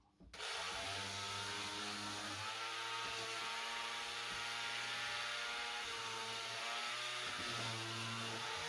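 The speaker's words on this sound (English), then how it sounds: "Now I'm going to clean up and just sand on all the edges" A power sander works along the edges of freshly cut wood pieces, a steady loud whirring hum with a shifting, grinding drone that runs continuously and close.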